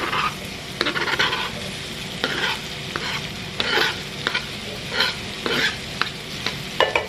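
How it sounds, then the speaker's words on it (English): A whole diced onion sautés in bacon fat, with a steady close sizzle broken by repeated scraping bursts of stirring. No one speaks. "we're about to saute 1 whole onion"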